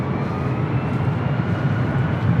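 A Delta heavy airliner takes off from runway 24 right at LAX, its engines a steady, broad low roar that holds unbroken throughout, heard at some distance with no talk over it.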